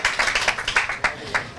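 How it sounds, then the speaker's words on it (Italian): A football club audience claps for its new coach at a season presentation, a brief burst of sharp, fairly rapid hand claps close by that stops after under two seconds. "facciamo un grande applauso al nuovo mister della SD Gabice Gradara"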